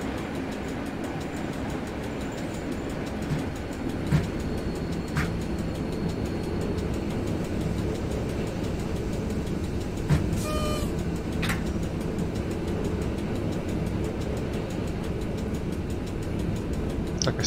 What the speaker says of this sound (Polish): Tu sobie zrobimy kontrolne hamowanie.